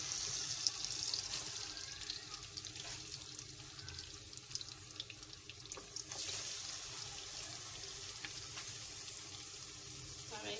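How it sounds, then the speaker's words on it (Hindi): Chicken tikka pieces fry in about two spoons of ghee in a kadai over medium heat, making a soft, steady sizzling hiss that runs unbroken throughout at low volume. "अब हम अपने टिक्के फ्राई करेंगे।"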